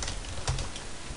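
An email address being typed on a computer keyboard, a short burst of quiet key clicks with one firmer tap near the middle.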